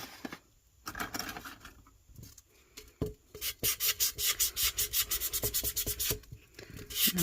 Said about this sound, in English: I just grab a blade. And scrape any dried epoxy out.